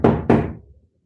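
Two firm, close knocks on a front door in quick succession, each a loud hollow thud that fades quickly into silence.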